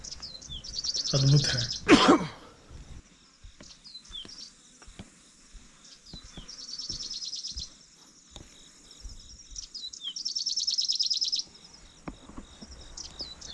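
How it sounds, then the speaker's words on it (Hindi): Birds chirp and trill in repeated bursts around a hilltop temple, moderately close, with insect-like buzzing in the background; a person speaks briefly near the start. "चिड़ियों की चहचहाट ने मंदिर को और भी सुंदर बना दिया था।"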